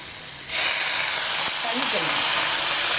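A sudden loud hiss and sputter as water hits a hot pan of sautéed cluster beans, settling into continuous steaming sizzle, close up.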